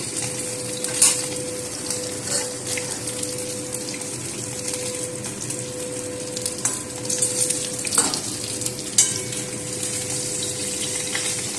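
Snakehead fish frying in hot oil over a high gas flame, a continuous close sizzle with occasional crackles and a few light utensil clinks over a steady low hum.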